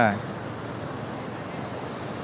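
Sea waves break on the beach at Cox's Bazar as a steady, broad wash of surf with wind, even and unbroken, after a short voice at the very start.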